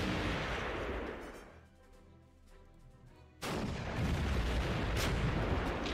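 Gunfire from a unit attack in the strategy game Panzer Corps, with a sustained roar of battle noise, then a lull, and then a second loud burst of firing that continues to the end.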